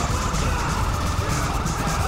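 A police car siren wails steadily in the video game GTA V with the LSPDFR mod, mixed with engine and game noise, while a voice talks over it.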